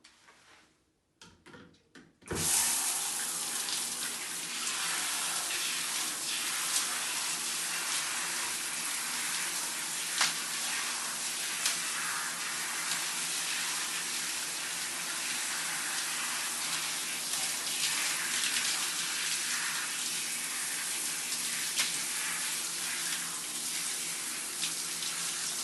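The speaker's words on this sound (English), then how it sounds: "And then I rinse out." Steady running water rinses conditioner out of curly hair. After a few faint knocks, a loud constant hiss of flowing water starts and carries on for more than twenty seconds, with small splashes and no talking.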